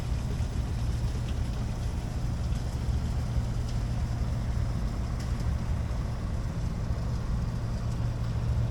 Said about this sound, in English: So yeah, that's a big boat, no doubt.